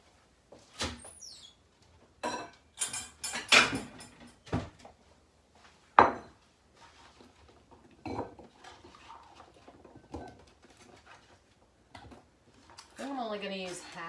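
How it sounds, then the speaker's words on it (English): Dishes and a bowl clatter in a home kitchen as they are taken out, with sharp clinks of ceramic and cutlery, a cupboard or drawer knocking, and a voice talking intermittently between the clatters. "Let me get a bowl to put these in."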